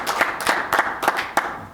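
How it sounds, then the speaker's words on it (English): A small group claps briefly for George at a city council meeting, giving a few scattered, close claps in an uneven rhythm. "So let's give George a nice round of applause for everything."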